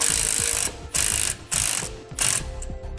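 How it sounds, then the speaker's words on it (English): Ratchet wrench with a 19mm socket snugging a lock nut on a TorkLift StableLoad rear suspension upgrade for a 2018 Ford; four bursts of rapid clicking, close and loud, separated by short pauses. "now we'll tighten it down with a 19mm socket and wrench"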